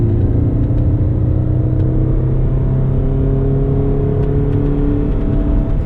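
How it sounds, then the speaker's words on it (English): A 2016 Scion FR-S four-cylinder engine drones loudly and steadily at high revs, a buzzing, strained hum with a whirring undertone that holds throughout. "There's something to be said for a four-banger, though, that's just always screaming at you"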